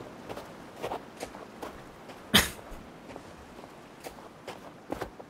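Running footsteps in a video game, heard as faint, soft, regularly spaced steps over quiet background, with one sharper, louder thump partway through.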